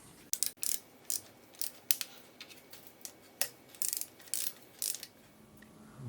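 Wrench on the engine bolts of a 1.8 TSI engine, tightened in two stages: a series of sharp, close ratcheting clicks in short irregular bursts separated by brief pauses, with no talking.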